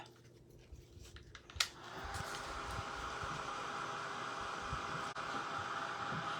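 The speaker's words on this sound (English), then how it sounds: "if you get ready to buy a craft dryer, this is the stuff" A craft heat dryer blows steadily while drying paint on a chalkboard, a constant loud whooshing hiss that starts after a brief clatter and runs on evenly.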